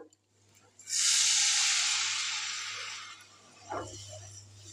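Rinse water from a mixer jar hits a hot pan of ground spices, including cumin, for a Bengali vegetarian eggplant dish. It gives a sudden loud, hissing sizzle that slowly fades over several seconds.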